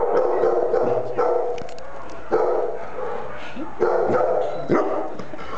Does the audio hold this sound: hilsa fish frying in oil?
no